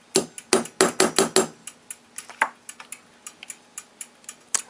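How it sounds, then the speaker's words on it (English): A light hammer taps a bushing into the movement of a 1928 Westclox Big Ben DeLuxe alarm clock, a quick run of six sharp metallic taps followed by softer, scattered clicks and taps, close and clear. "Just a couple light taps."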